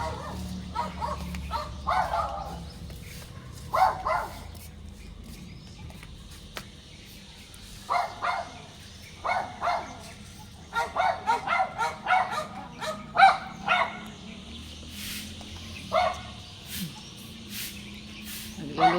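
Several dogs barking and yipping in short bursts and clusters, moderately near, with whimpers between and a low background hum of a household setting, some quiet speech mixed in.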